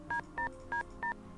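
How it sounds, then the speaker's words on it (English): A telephone keypad is dialed in the Nancy Drew video game, giving four evenly spaced, clear DTMF beeps, each short and distinct over quiet background. "The cell phone number. You want to call Rick? Sure"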